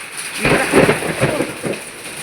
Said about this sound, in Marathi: हे बघा कसला पाऊस येत आहे बाप्पा